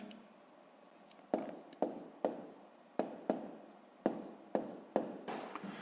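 Pen writing numbers on paper during a sixth-grade multiplication exercise, with close, crisp scratchy strokes in a steady series of short bursts and no talking over them.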